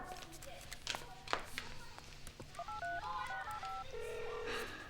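A telephone dialed in a 1990s comedy film scene, with a quick run of distinct keypad tones after some rustling and handling noises. The tones are clear and close.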